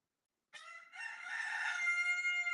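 A rooster crows once, a loud, close, drawn-out call that starts after a brief silence and holds steady to the end, with no talking over it.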